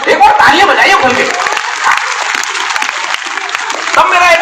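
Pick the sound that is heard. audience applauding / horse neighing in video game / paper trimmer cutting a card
audience applauding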